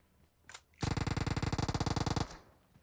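An M416 rifle fires a rapid full-auto burst in PUBG Mobile, about twenty loud, evenly spaced cracks packed into a second and a half, preceded by a faint single click.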